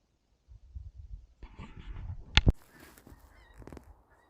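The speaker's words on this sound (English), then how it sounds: "There's a load of geese flying over." Faint, distant honks from geese passing overhead, a few calls scattered across the clip, with one sharper honk standing out near the middle.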